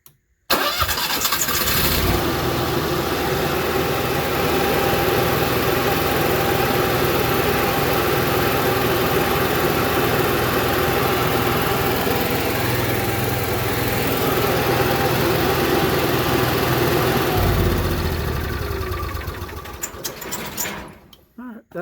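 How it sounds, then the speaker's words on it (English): A portable generator engine runs outside near a building, starting up and droning loudly and steadily for about fifteen seconds before cutting off near the end. "You need to fire up your generator."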